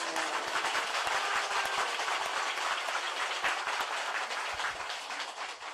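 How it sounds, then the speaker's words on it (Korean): Dense, steady applause from a large crowd claps continuously without a break at fairly high level, with no speech over it. "박수."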